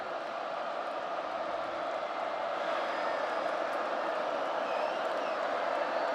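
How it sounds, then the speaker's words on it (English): A college football stadium crowd at North Dakota versus Kansas State produces a broad, steady roar of distant cheering, a wash of sound with no distinct claps or shouts. "This crowd trying to generate some energy."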